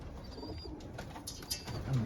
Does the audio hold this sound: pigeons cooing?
yes